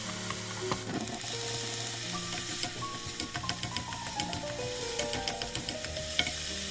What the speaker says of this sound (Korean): 당근 넣고 볶고 양파 넣고 볶고